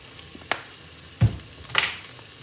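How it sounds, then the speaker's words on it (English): Mustard seeds in hot oil for a fish curry, a few scattered sharp pops and crackles over a faint sizzle, close and fairly quiet, no talk. "Gonna wait to hear the seeds popping."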